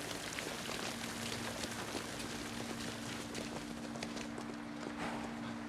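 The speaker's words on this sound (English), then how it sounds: "Oh, the horse." Faint, steady clip-clop of horse hooves under a low hum in the period TV drama Peaky Blinders, a quick irregular patter continuing throughout.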